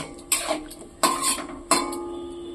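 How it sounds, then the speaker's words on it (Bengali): A spoon stirs egg and soybean curry with mustard oil and turmeric in a pan, giving three distinct metallic scrapes and clatters about a second apart, each followed by a short lingering ring. "এইবার আমি সমস্ত কিছুকে একসাথে নাড়াচাড়া করে একটু ফুটিয়ে নেব।"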